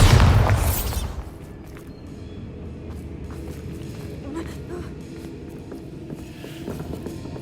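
A Bombarda blasting spell from the game Hogwarts Legacy goes off as a loud, bright burst in the first second, then settles into a low rumbling, crackling aftermath that lingers at moderate level.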